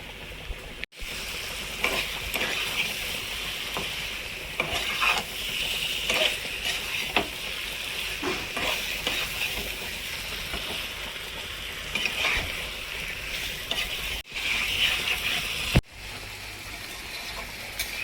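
Mutton frying in a spiced masala sizzles steadily in a pan, with repeated scraping stirs and clatters close up, several sharp knocks punctuating the continuous hiss, and no voices.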